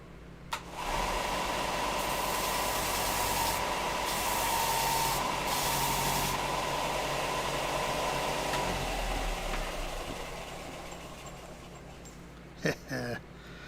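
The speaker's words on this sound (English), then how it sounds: "Take this belt sander and clean it up." Belt sander smoothing foam hands in a workshop, a steady loud motorized whir with a gritty hiss running for about ten seconds before cutting off, followed by a few brief clunks.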